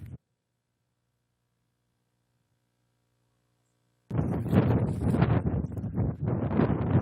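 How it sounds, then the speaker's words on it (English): Wind gusts buffet the microphone at an outdoor crash site, a loud rumbling roar that bursts in after about four seconds of near silence and keeps churning unevenly to the end. "So windy."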